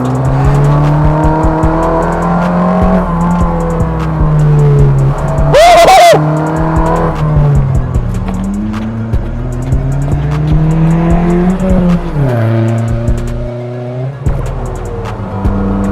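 A rally-spec VW Polo with a 1.2 TSI engine and manual gearbox driving hard on a tarmac track, its loud close engine rising and falling through the gears, with a brief tire squeal.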